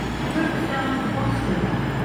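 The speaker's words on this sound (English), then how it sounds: "coming in now is the double pairing of Voyagers" Two coupled Voyager diesel units rolling into Bournemouth station, a steady low engine rumble and rail drone building close by, loud and continuous.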